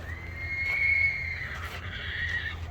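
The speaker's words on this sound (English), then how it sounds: "Oh, we got horses going crazy over here." Horses neigh and whinny excitedly near a truck and trailer loaded with wood chips, a sustained high whinny followed by a second shorter call over a low engine rumble.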